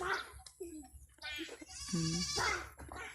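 Goats bleat several times in short, wavering cries nearby, mixed with a person talking.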